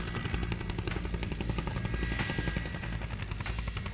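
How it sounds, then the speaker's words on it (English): A helicopter heli-lifting loads into a dam at Cotter Reservoir gives a steady, pulsing rotor thud with a buzzing engine whine, constant in level and heard alone without voices. "we are going to use a helicopter to heli lift and place in the dam"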